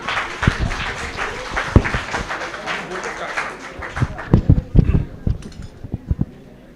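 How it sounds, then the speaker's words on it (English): A college debate audience gives scattered, uneven applause, individual sharp claps standing out, growing denser toward the end, with a voice speaking underneath. "The applause could really be louder."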